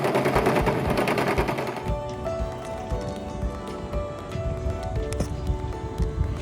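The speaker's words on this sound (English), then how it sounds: "Got myself a Honda fabric joiner here." A Honda fabric joiner sewing machine stitches sail fabric in a steady rapid rattle, stopping and restarting in short bursts, with clattering and rustling close by.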